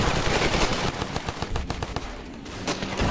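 Full-auto rifle fire from the Ravenfield video game, fast rattling bursts of shots running almost without pause, loud and close.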